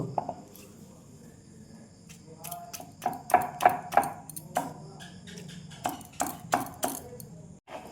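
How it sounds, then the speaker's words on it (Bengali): Fried garlic and onion are ground on a stone slab with a stone roller, producing a series of sharp knocks and scraping taps in uneven bursts, close and moderately loud, alongside a speaking voice. "শিলনোড়ায় বেটে নিব।"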